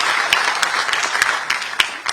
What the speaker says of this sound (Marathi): एकदा त्यांच्याकरता जोरदार टाळ्या हे आपण सगळ्यांनी वाजवल्या पाहिजे